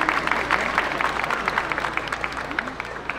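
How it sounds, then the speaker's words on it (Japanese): Audience clapping for a band leader after a concert performance at an air base open-house summer festival, a continuous moderate patter of many hands with some crowd murmur. "片山総長に大きな拍手をお送りください。"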